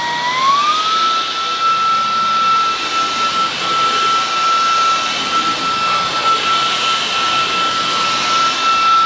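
A Sebo Balance A1 cordless vacuum cleaner on a carpet ramps up to maximum power, its motor whine rising in pitch then holding a loud, steady high drone with airflow rush throughout.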